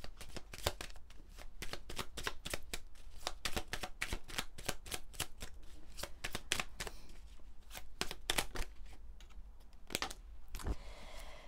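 Oracle advice cards are shuffled by hand in quick, rapid flurries of crisp slapping and riffling, close and steady throughout with brief pauses, and no voices.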